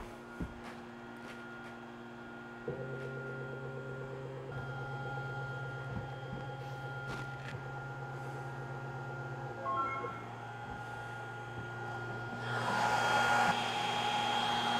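A Two Trees TS3 10 W laser engraver runs a 6 mm cutting pass with a low, steady fan whir and shifting tonal motor hums, quiet overall, rising into a louder airy rush near the end.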